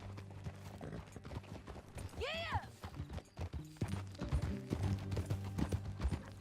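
Rhythmic clip-clop of horse hooves galloping in Red Dead Redemption 2, under music and game sounds, with a horse whinny rising briefly and a voice calling out.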